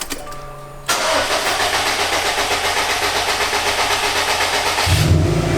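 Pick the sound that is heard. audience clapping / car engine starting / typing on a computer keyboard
car engine starting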